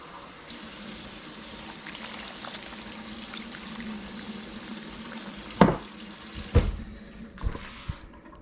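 About a cup of water poured into a cooking pot of taco chili in a home kitchen, a steady close trickle and splash, followed by a few sharp clunks of the pot being handled.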